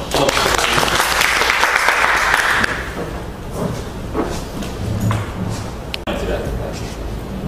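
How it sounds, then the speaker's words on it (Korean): Audience applause at a leadership lecture, a loud burst of many hands clapping for about two and a half seconds, then fading into room noise with soft shuffles and thumps. "박수로"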